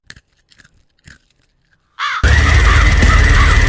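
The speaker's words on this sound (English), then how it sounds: "So crows can come in and eat those breadcrumbs up." A crow gives a few short, scattered caws at a moderate distance. A sudden loud, harsh rush of broadband noise then takes over and continues steadily to the end.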